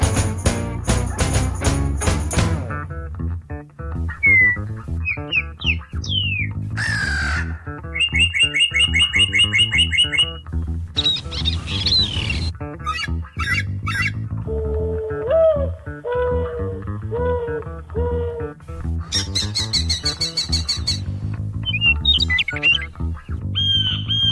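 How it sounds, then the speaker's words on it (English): Various wild bird calls from a birding competition follow one after another in a dense sequence of squawks, chirps, trills and whistled notes, loud and close, with no voices. "I can't name all of those bird calls"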